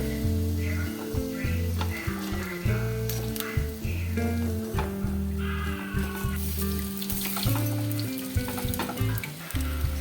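Snack balls deep-frying in hot oil in a pan, turned over and pressed: continuous bubbling sizzle with occasional utensil taps, close, while a steady tonal hum or background music runs underneath.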